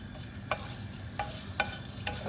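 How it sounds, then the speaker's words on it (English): Garlic sizzles gently in extra virgin olive oil, a soft steady frying hiss broken by four or five brief scraping stirs from a utensil in the pan. "We're going to start by putting some extra virgin olive oil, and we add the garlic."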